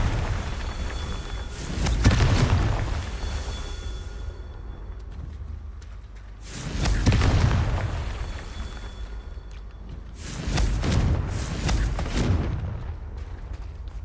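Confringo fire spells burst in the Hogwarts Legacy video game, three loud booming explosions spaced several seconds apart, each with a rumbling decay, heard without talk.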